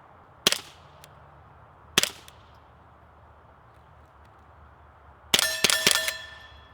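Bullet impacts from a suppressed .30 caliber rifle fitted with a Yankee Hill Phantom silencer striking a target: two sharp metallic smacks about a second and a half apart, then a louder cluster of ringing clangs, heard alone against quiet outdoor background.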